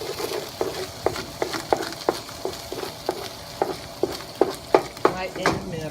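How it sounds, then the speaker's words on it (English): Chopped onions tossed into a hot pan for enchiladas, sizzling softly beneath a steady series of sharp stirring scrapes and clicks spaced roughly every half second. "I chopped some onions and I'll add it to this pan."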